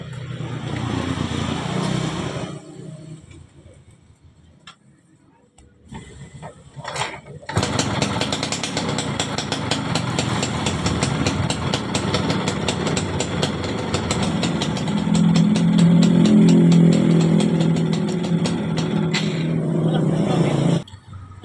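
A Yamaha Fiz R motorcycle engine starts after a quiet pause and keeps running steadily at close range, its idle growing a little louder toward the end.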